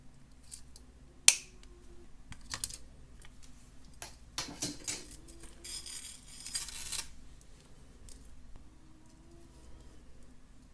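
Metal jewelry chain being cut with snips while making a boho dangle, a sharp click of the cut followed by small scattered metallic taps and handling rustles in a quiet room.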